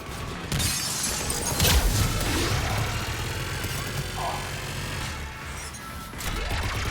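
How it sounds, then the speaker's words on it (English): Sci-fi gunfire and crashing impacts from the Mass Effect 3 video game, a steady loud barrage of shots and smashing debris with brief voice chatter over it. "Just following the gunfire."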